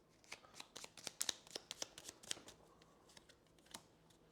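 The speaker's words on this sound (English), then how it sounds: "Another shuffle." Playing cards being shuffled during a session of the board game Aeon Trespass Odyssey, a quick series of crisp riffling snaps and flicks close up, with irregular bursts and no talking.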